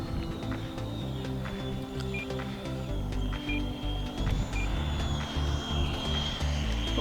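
An AeroFoam Albatros L-39 RC jet with a 105mm electric ducted fan rolls out after landing in a headwind, a steady high whine over a rumbling rattle of wheels on bumpy ground.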